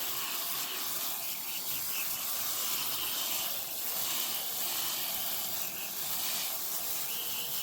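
Water rinses rocks through a gold sluice box in the Sierra Nevada, a steady close rushing hiss of spraying and flowing water with no pauses.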